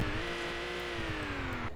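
A BMW E46 engine revs up and holds high, a steady rising harmonic tone with a slight fall, close and alone with no talk, over roughly two seconds.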